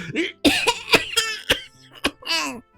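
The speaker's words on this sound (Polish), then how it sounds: "zakaszlała głośno, zasłaniając pyszczek łapką." A loud, sharp cough bursts out several times in quick succession, close by, with short gaps between the hacking fits.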